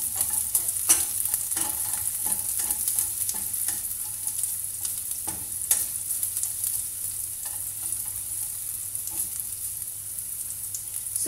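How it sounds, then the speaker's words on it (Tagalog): Onions fry in a pan as they are stirred, a steady close sizzle broken by repeated scraping and clinking of a utensil against the pan, with no talk. "Antayin lang po natin maluto yung ating sibuyas."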